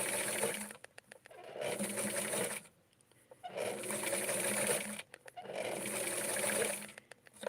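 A sewing machine stitches fabric and tulle together on a wrap skirt in short bursts of close, buzzing whir, with three brief pauses between runs.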